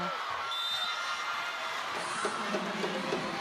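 A large volleyball arena crowd at a PVL match between Creamline and Chery Tiggo keeps up a steady, moderately loud roar of cheering, with a few sharper shouts and claps rising out of the din.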